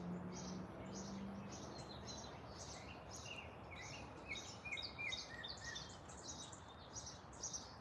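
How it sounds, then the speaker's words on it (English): Many birds chirp and tweet loudly outdoors in the morning, a dense chorus of quick repeated calls in the mid-distance over a soft background hum, with no talking. "Birdies are so loud today."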